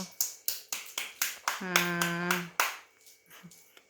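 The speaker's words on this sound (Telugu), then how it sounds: "wow, claps" Hands clap in a quick, even rhythm of close, sharp claps. A voice speaks over the middle stretch, and the clapping resumes more softly afterward.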